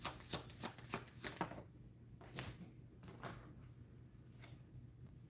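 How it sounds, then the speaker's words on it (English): Playing cards shuffled by hand in a quiet room, a quick series of riffling, rustling bursts followed by softer slides and taps, close and alone. "I'm going to shuffle one more time."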